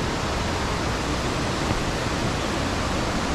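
A mountain river rushes on the Gosaikunda trek in Nepal, a loud, constant broadband roar of flowing water that holds steady throughout with no voices.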